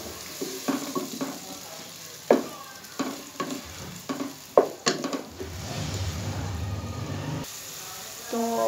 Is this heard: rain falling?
no